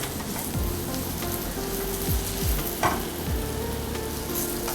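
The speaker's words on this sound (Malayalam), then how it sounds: "നമ്മൾ സവാള വഴന്ന് വരുന്നുണ്ട്" Sliced onions sauté in a pan with a steady close crackling sizzle, and a spatula gives several sweeping scrapes through them.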